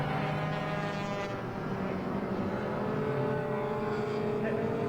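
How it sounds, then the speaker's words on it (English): Classic pre-'66 touring cars, including a Ford Falcon, Cortinas and Minis, race past at Silverstone with a steady, loud engine roar that holds throughout without a break. "Alan Greenhall comes home in the Falcon with one of the Cortinas just behind him"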